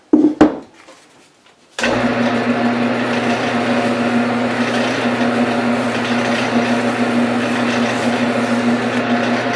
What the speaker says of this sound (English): all we have to do is a light sanding